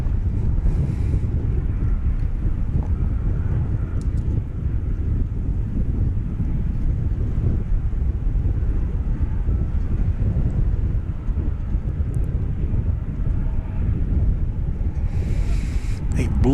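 Steady, loud wind buffeting a microphone outdoors on a blustery day at DFW Airport, a continuous low rumble filling the whole stretch with only slight dips in strength.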